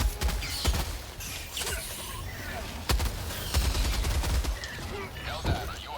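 Heavy machine gun fire in the video game Helldivers 2, sharp shots and rattling bursts over explosions and battlefield clutter at moderate loudness, with a player talking at times.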